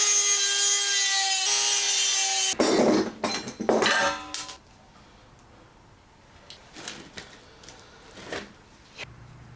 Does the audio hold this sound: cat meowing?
no